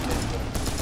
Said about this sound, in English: I keep shooting you.